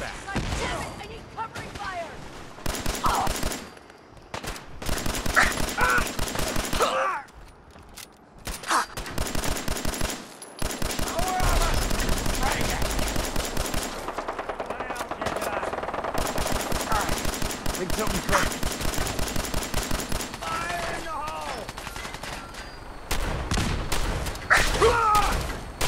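Rapid automatic weapon fire and scattered gunshots in the video game Fallout 4 rattle almost continuously through a firefight, with brief lulls, while a voice speaks over the action.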